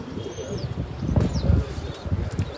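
Toli wala pigeons, a flock of fancy pigeons, give repeated low, soft coos close by, with a few faint chirps and brief wing rustles over a steady background.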